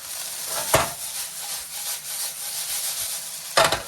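Onion, pepper and garlic sizzle in oil in a home kitchen pan as breakfast cooks: a steady frying hiss throughout, with two louder spattering bursts near the start and near the end.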